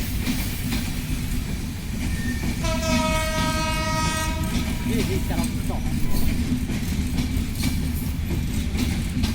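Panchagarh Express at Parbatipur Junction sounds a long, loud horn blast over the rumble and clatter of the train, with station crowd noise and voices throughout.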